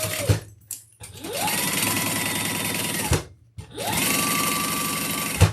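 Sewing machine basting leather pieces, running in two long steady bursts of rapid stitching with a short pause between, close and loud, each burst ramping up and then stopping.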